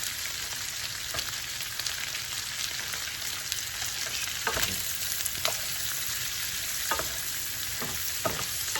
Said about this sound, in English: We're just going to saute our onions along with the bacon and the sausage.